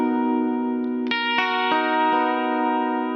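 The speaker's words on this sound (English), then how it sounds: "We've got a vibrato pedal on the clean setting of the AC30." A Telecaster on its bridge pickup, with the tone rolled back slightly, plays through a vibrato pedal into a clean Vox AC30. A sustained, shimmering chord rings out as several notes are picked clearly on top, with no talking.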